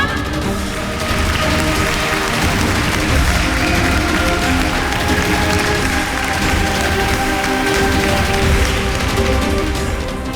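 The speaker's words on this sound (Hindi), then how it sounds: "तालियां।" Applause from a crowd at a Republic Day flag hoisting ceremony, a steady, dense wash of clapping that builds within the first second and carries on loudly and evenly to the end.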